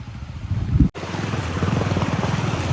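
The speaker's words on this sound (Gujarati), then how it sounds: "જોતા કીવો પવન આવે છે" Strong wind roars and buffets the microphone during heavy rain over a low, pulsing vehicle engine rumble, after a brief cut.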